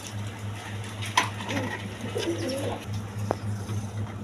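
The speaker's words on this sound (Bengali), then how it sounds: "এখানে এক পিস মাদি কবুতর আছে" A female pigeon of a colouring gorra breed coos softly at close range, low repeated throaty calls over steady background hum and faint room noise.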